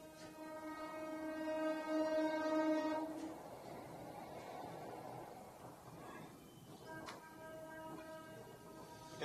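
A train crossing a Himalayan railway rope bridge during a test run sounds its horn, a loud sustained tone that fades around the midpoint, followed by a distant rolling rumble and a second brief horn note.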